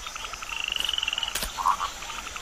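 Frog croaking in the monsoon forest of India's Western Ghats, a rapid pulsing trill of close calls followed by a short louder croak, set against a constant background chorus of insects and other frogs.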